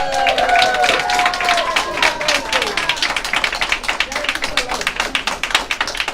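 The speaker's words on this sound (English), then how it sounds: "Give her a big round of applause." A round of applause at an elementary school event, loud clapping and cheering with whoops from the crowd that rises in sharp, individual claps and gradually becomes more scattered and rhythmic.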